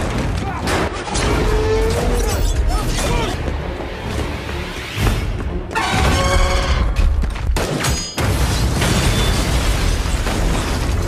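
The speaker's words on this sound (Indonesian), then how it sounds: "Will berhasil membunuh Reaper setelah menembak tabung gas berisi magnesium oksida" A film scene in which a gas cylinder filled with magnesium oxide is shot and blows up, loud booms and bursts mixed with crackling debris, mechanical clatter and shouting voices across a dense, chaotic soundtrack.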